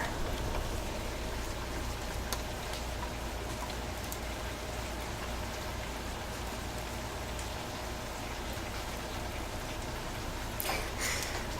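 Steady rain falls outdoors with a soft, even hiss and scattered drops pattering close by. It continues without a break, with a brief louder splash near the end and no voices.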